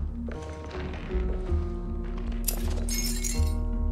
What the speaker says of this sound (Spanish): ahí hay tirados vidrios y cada que me pare,